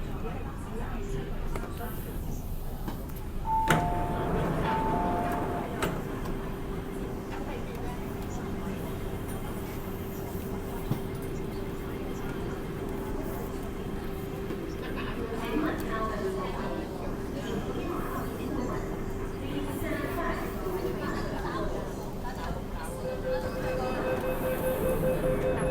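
A crowded Hong Kong MTR train car in motion, with a constant low rumble and rail noise throughout, occasional chime tones, and passengers talking beneath and over the ride.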